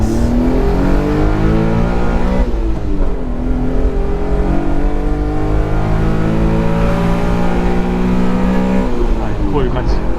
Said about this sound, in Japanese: もうこんなになんというかエンジンって回るんやっていうぐらい回ります